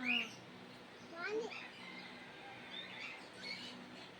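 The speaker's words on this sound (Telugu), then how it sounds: "ఇంకో ప్యారెట్ ఉంది ఇక్కడ" A parrot at a zoo in Oman gives a few short, scratchy chirping calls that rise and fall, set against a quiet background hum.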